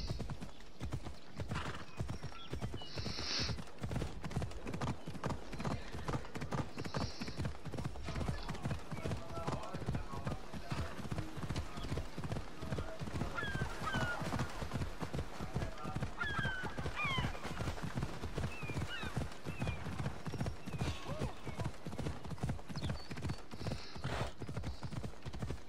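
Steady rapid hoofbeats of a galloping horse in Assassin's Creed Odyssey clatter throughout, with an occasional whinny and some talk underneath.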